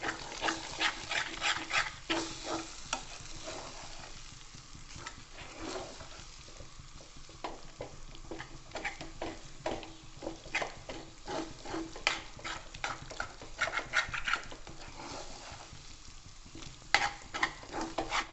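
A spoon stirs and scrapes a raw grated potato mixture in a pan over a gas flame, with steady close clattering strokes over a low sizzle.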